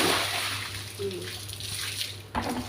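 Water splashing and sloshing while a child is bathed in cold water, irregular close splashes and pours with brief pauses and a sharp splash near the end.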